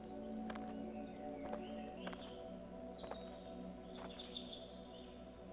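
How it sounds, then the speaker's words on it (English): Birds in a forest give scattered high chirps and tweets over a faint, steady insect-like hum, quiet and somewhat distant. "I love hearing the birds"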